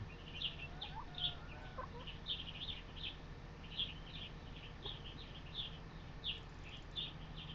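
Chickens cluck faintly in short repeated bursts over a steady low hum, like sound coming from a nearby screen, from the video game Farming Simulator 25.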